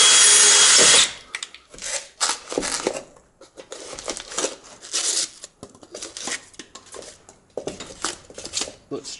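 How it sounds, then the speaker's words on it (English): A power drill bores into a structural insulated panel wall in a brief loud burst, then gives way to rustling, handling noises and intermittent scraping close by. "the only other option that we have is to drill"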